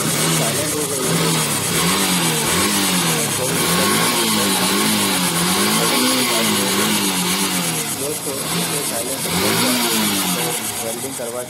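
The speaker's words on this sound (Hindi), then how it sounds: "अब हम रेस देंगे तो गाड़ी पूरा साइलेंट हो गई है।" Motorcycle engine revs with a loud, steady mid-pitched drone after its broken silencer is repaired by welding. Several rising and falling throttle swells run under someone talking throughout.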